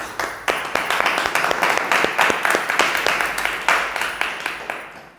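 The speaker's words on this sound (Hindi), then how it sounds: "परमेश्वर के लिए तालियां बजाएं।" A congregation claps for God during a Hindi church sermon, a dense burst of many hands with sharp individual claps standing out, fairly loud and steady before thinning toward the end.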